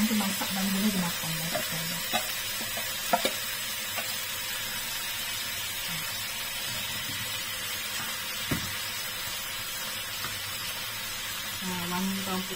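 Garlic fries in a pan with a steady, close sizzling hiss throughout, broken by a few light clinks of stirring.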